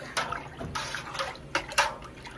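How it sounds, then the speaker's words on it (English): Goat's milk being stirred in a pot, a few distinct sloshing swirls and splashes of liquid spaced out over a couple of seconds, fairly close and with no voices. "I just want to kind of give it a quick stir to combine it."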